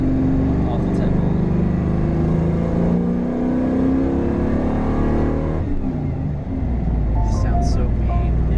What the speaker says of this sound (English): Sounds so mean